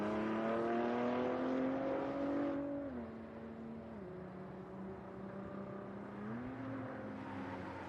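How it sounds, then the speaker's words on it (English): Race cars, Ford GTs among them, run on a track at a motorsport invitational event, a steady engine drone with smooth pitch shifts as the cars change gear and speed, heard from a distance and alone without talk. "I want you to hear these cars as much as possible."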